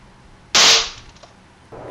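A mini weapon built from a ballpoint pen refill tip fires with one sharp, loud crack like a cap gun, followed by a short fading tail and quiet room tone afterward.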